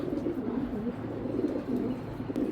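A racing pigeon coos close by, with soft low throaty murmurs repeating in a steady, rolling rhythm throughout.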